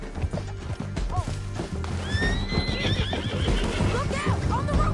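Galloping hooves pound in quick rhythm beneath loud horse whinnies in a western-style video game chase, close and busy, with voices talking over the action.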